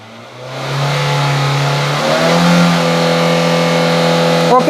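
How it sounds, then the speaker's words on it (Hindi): The engine of a used car being checked before purchase idles, then revs up and holds a loud, steady, rising drone close by for several seconds. "तो अभी मैं आपको रेस करके दिखाता हूँ।"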